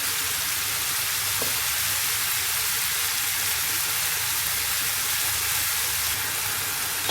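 Steady, close sizzling of spinach and peppers sautéing in a pan, a continuous hiss with no talking and little variation throughout.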